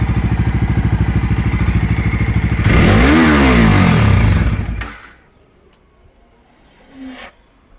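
A KTM Dominar 250 motorcycle idles with a steady close thump, then revs hard into a loud rising roar that chokes abruptly and cuts out, leaving near silence broken by a brief faint rattle.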